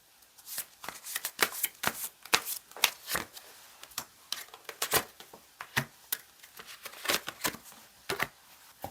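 Tarot cards are shuffled and drawn for a relationship reading, making close, crisp riffling and slapping sounds that come in quick irregular bursts.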